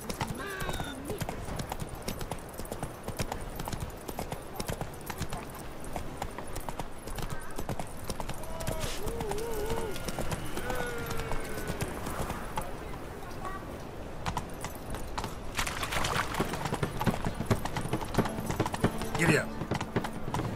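Horse hooves galloping in the game The Witcher 3, a continuous rhythmic clip-clop with a neigh, under speech and background music throughout.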